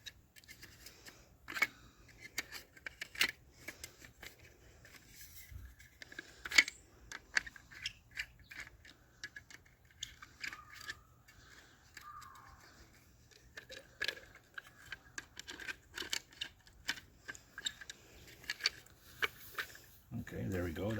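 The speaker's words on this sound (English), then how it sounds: "So we're just going to remove the 4 screws that keep the cover on here." A screwdriver takes four screws out of a pool light cover, making scattered small clicks, scrapes and metallic ticks up close. Someone talks through most of it.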